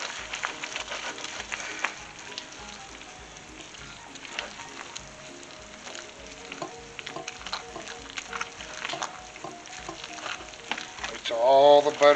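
Melted butter mixture for spicy peanut brittle is stirred and scraped in a pan, giving a steady sizzling scrape with frequent small clicks of the utensil, close by and moderately loud, with a louder clatter right at the end.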